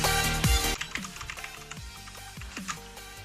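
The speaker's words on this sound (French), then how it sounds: "c'est un clavier mécanique, c'est bien que ça fasse un peu de bruit, mais voilà, pas trop" A Corsair K95 RGB Platinum mechanical keyboard with Brown switches clatters with a series of close key presses, uneven clicks and thocks following a louder initial knock.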